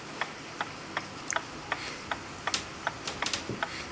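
Reamer turned by hand in a brass plate of an American clock movement during rebushing: faint, close series of small clicks and ticks in an irregular rhythm over a quiet background.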